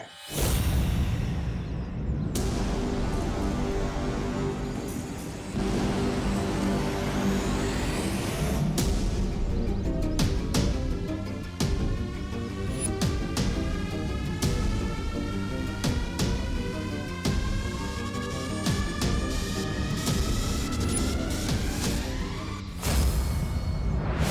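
A vehicle pulls up in a Hindi fantasy TV drama, a loud continuous engine roar with a hissing air-brake release and whooshing effects layered over dramatic music, steady throughout with no talk.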